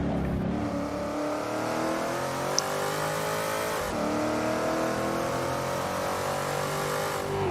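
A race car engine in Assetto Corsa, during an ATCC touring car race at Oran Park, revs hard and steadily up through the gears, loud and close, with a brief gear-change dip midway and no talk over it.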